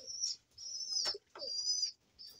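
Pigeons coo in their new coop rooms, a few soft, close calls separated by short pauses, with faint wing and cage rustles and no talking.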